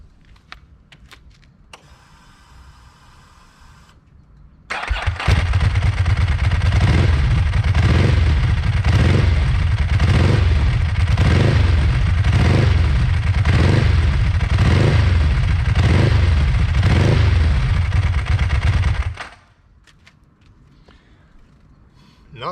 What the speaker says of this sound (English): let's get ready to rev. And we'll start with the 999.